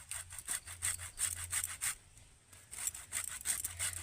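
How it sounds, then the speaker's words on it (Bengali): Lemon peel being rubbed off for pickle, a steady back-and-forth rasping in regular strokes, close and fairly loud, with a short pause midway before the rhythm resumes. "লেবুর গায়ের এই যে হলুদ বা সবুজ অংশগুলোকে ঘষে তুলে দিতে হবে"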